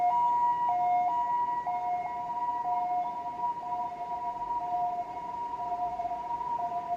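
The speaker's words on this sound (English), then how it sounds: "It's an ambulance." An ambulance siren passing near a rooftop, loud two-tone alternating wail repeating steadily and persisting throughout, with no speech over it.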